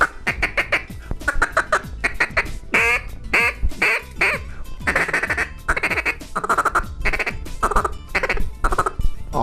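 A Buck's New Baby Buck duck call blown in a fast feed-calling pattern: rapid, rhythmic bursts of raspy quacks and clucks, loud and close, running continuously with brief pauses between runs.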